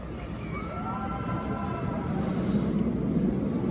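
The PowderKeg roller coaster train at Silver Dollar City rumbles and rolls past at a distance, a steady mechanical roar with faint screeching wheel tones, while a few distant voices and crowd noise sit in the background.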